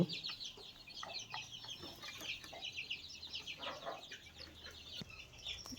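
Several chickens, a rooster and seven hens, cluck and murmur softly nearby, with scattered short calls overlapping in a quiet, busy barnyard chatter.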